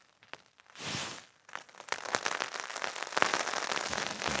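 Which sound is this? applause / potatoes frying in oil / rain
rain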